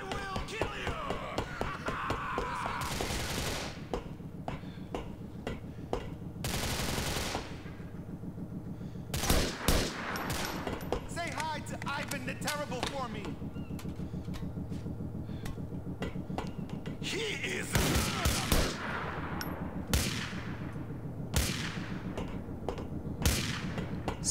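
Gunfire in Grand Theft Auto IV: repeated loud shotgun blasts and rifle bursts crack out over about twenty seconds, irregular and close, with sustained rattling volleys between the bigger booms.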